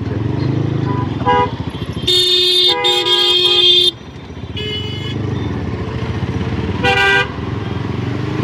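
Car and motorcycle horns honk repeatedly in a traffic jam near Farazi Hospital on the road between Hatirjheel and Banasree: several loud, close toots in bursts over a constant rumble of idling engines.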